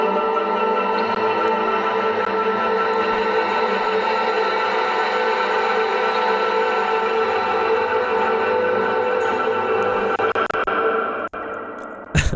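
Wet ambient synth pad with fluttering movement, a harmonic resonance effect and long reverb, a dense, steady, sustained wash that holds loud before cutting off abruptly near the end, with no talking.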